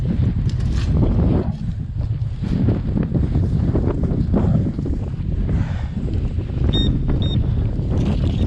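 Heavy wind buffets the microphone throughout on a dry California lake bottom, a loud, continuous rumbling roar with gusty fluctuations.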